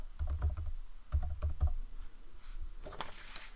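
Fingers tap out a URL on a computer keyboard, quick clusters of soft key clicks with short pauses between bursts, close and moderately quiet with no talking.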